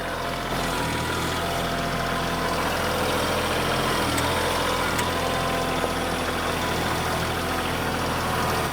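A tractor engine runs with a steady, continuous mid-to-low drone and vibration, close and even throughout, with no talking.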